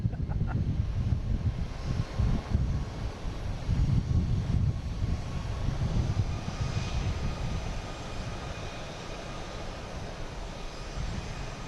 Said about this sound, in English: There's American heading to Phoenix, an A321neo. Flight 3313 on 4 right.